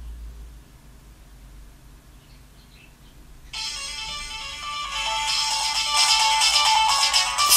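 A mobile phone rings with an incoming call, its bright electronic ringtone starting after a few seconds of faint room hiss and growing louder, heard alone without speech.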